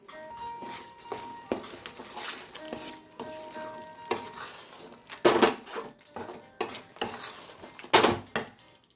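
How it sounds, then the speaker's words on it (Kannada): A spoon scrapes and clinks against a pan while stirring coconut sesame powder, chana dal, urad dal and peanuts into puliyogare gojju, giving irregular knocks and scrapes that grow louder toward the end. "ಇದನ್ನು ಒಂದು 5 ನಿಮಿಷ ಗೋರಾಡ್ತಾ ಇರಬೇಕು"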